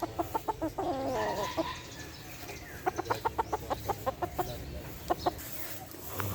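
Sweater Boston Gray gamefowl roosters at a game farm, clucking in quick rhythmic bursts, close and fairly loud against a low background hum.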